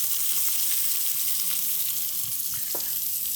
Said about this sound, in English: So I'm going to put my onions in